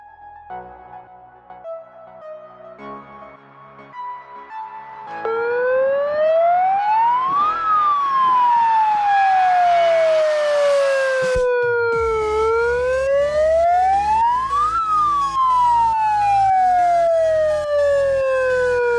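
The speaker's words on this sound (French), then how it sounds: "Il va y avoir une sirène." A loud warning siren wails before a car explosion on a film set, rising and falling in long sweeps after a quieter stretch of low rumbling; no one speaks.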